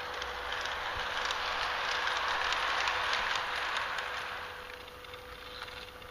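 A toy train runs continuously with a steady, even rolling hiss and clatter that holds level before easing slightly toward the end, with no talk over it.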